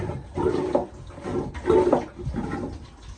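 A manually pumped marine toilet on a boat being flushed, with rhythmic bursts of sloshing, gurgling water in repeated pump strokes, close and fairly loud.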